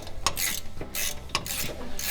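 A wrench works the bolts of a tensioner pulley on a rusty Chevy Nomad engine, giving a few sharp metallic ratcheting clicks and clanks in quick bursts, close up and fairly quiet, with no talk.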